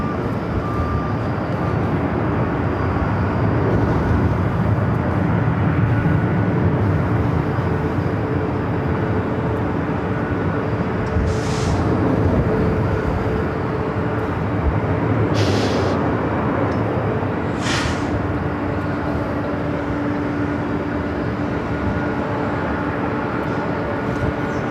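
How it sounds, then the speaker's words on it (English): A Delta Airlines Boeing 767-300ER arrives at LAX, its engines a loud, steady roar with a broad low rumble held through the whole stretch, and a few brief high hisses rising above it. "Delta Airlines Flight 713 coming in from JFK 767-300ER"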